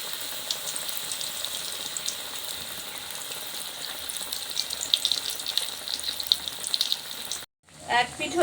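A besan-coated bread slice fries in hot oil with a constant close sizzle and bubbly crackle, then a brief pause and a louder burst near the end.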